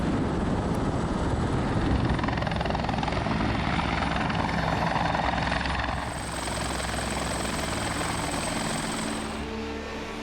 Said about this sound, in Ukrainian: рятувальники евакуювали людей за допомогою вертольотів